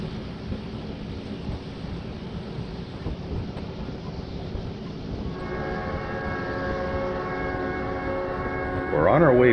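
The California Zephyr passenger train rolls through a tunnel with a continuous close rumble and rattle, and a bright horn-like tone rises over it toward the end.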